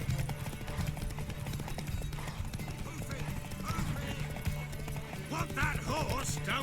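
Rapid hoofbeats of a galloping horse in The Witcher 3 pound continuously close by, with whinnies and scattered game effects rising near the end.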